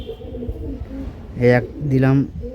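Kaldum pigeons coo in soft, throaty bursts nearby at a pigeon sale, while a person talks in the background.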